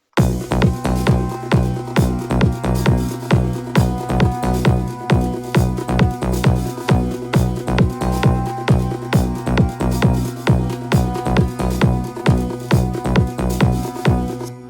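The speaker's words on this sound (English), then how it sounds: "With this percussion and with some sound effects, it kind of sounds like this." Loud, dense Indian trance percussion loop built in FL Studio, with a thumping kick on a steady four-on-the-floor pulse, layered hits and sound effects playing continuously without talk.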